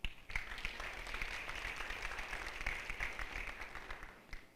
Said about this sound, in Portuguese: Salva de palmas para esse casal